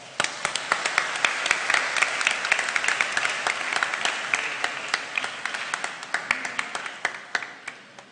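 Congregation applauding at a live Mass, a steady wash of many hands clapping that swells and thins over eight seconds, with sharp individual claps standing out at a moderate distance and no talk.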